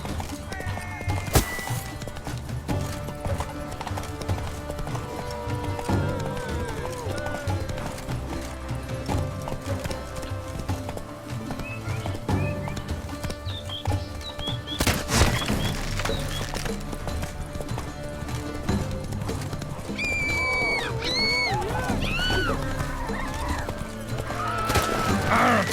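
Horse galloping in the video game The Witcher 3: Blood and Wine, continuous rapid hoofbeats over dense game ambience and music for the full stretch, with a few sharp thuds and brief louder bursts along the way.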